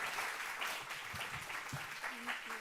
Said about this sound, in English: I invite you to give a warm applause to Xiaowei Wang.